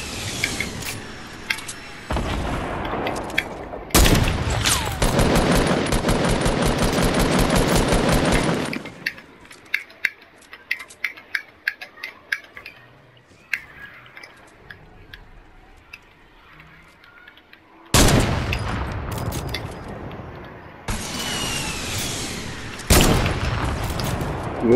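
Rapid automatic gunfire in a Fortnite duos match, loud sustained bursts broken by single sharp shots and a quieter stretch of scattered pops, then more heavy volleys near the end.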